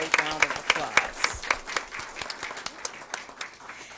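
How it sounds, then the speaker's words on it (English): Audience applause at a school board meeting honoring student athletes, a room of steady clapping with individual claps standing out, moderately loud and fading toward the end. "So let's give everyone a great round of applause."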